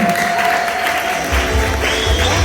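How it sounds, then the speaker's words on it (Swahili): A crowd at a church choir album launch claps steadily in a full, continuous wash of applause, with some cheering and high voices mixed in. "Makofi na vigelegele kwake."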